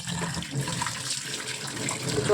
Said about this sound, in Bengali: এগুলো এখন ভালো করে ধুয়ে নেব